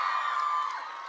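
Short burst of crowd cheering and applause at a Twilight New Moon fan event, a broad steady roar of voices that tapers slightly at the end.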